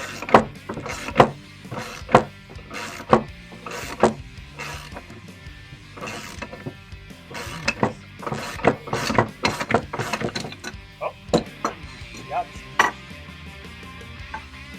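Someone working a pulley off a Ford pump in a garage makes irregular metallic clanks, knocks and short ratcheting bursts close by, with uneven pauses between the loud strikes.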